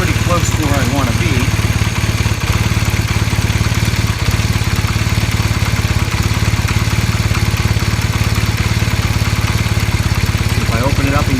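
A 1978 Honda CB400 motorcycle engine runs steadily at a close, loud idle with an even, fast pulsing throb throughout, and a brief voice is faintly heard near the start and end.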